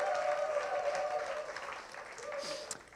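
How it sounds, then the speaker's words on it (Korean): A church congregation applauds its worship team, a dense, sustained wave of clapping that fills the room for several seconds before tapering slightly, with a voice faintly audible over it. "우리 예배팀에게 박수 한번 격려 드리겠습니다."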